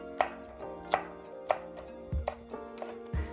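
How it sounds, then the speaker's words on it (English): Knife slicing a chilli at an angle on a chopping board, five or six crisp evenly spaced cuts with dull board knocks, close and clear with no talk. "And then the chilli, I'm just going to slice this at an angle."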